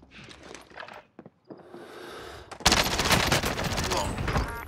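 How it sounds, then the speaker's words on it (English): Call of Duty Warzone gunfire erupts halfway through, a dense loud burst of rapid shots after quieter scattered sounds and a brief lull, with a voice faintly present underneath. "Oh, I'm getting shot!"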